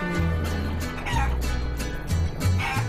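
Chicken clucking sound effects from the Guacamelee video game, a busy run of repeated clucks and squawks over constant game music, with no talk.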